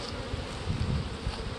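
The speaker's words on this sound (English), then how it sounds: "Don't worry about any residual bees on them." Honeybees buzz around beehive frames being handled, a dense, continuous low drone of many insects, close and steady with no talk.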